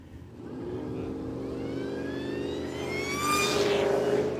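Drag race cars at a Willowbank radial event, turbo against blower, engines rising in pitch as they accelerate away, a loud sweeping roar that builds toward the end over crowd background.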